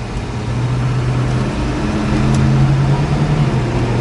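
A 1966 Ford Mustang GT Fastback pulls away and works up through first and second gear, its steady low engine drone rising in pitch with a brief change in tone around the shift.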